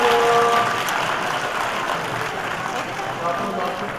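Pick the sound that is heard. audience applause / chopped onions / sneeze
audience applause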